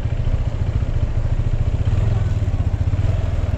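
Motorcycle engine thrums loudly and steadily close by, with a low pulsing rumble and some clatter, on a busy weekend road near Tebing Breksi, Indonesia.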